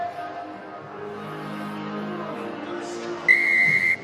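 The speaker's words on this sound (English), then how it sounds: "Tash Ganley blows the whistle and Chiefs get the second half underway." A referee's whistle sounds one sustained, shrill blast to start the second half of a women's Premiership rugby match between Exeter Chiefs and Leicester Tigers, cutting through steady stadium background noise.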